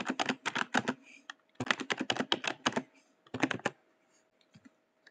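Keys clatter on a computer keyboard as a Wi-Fi password is entered during setup of an Epson L8050 PVC card and photo printer, three quick close bursts of clicks separated by short pauses.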